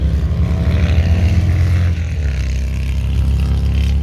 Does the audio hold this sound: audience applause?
no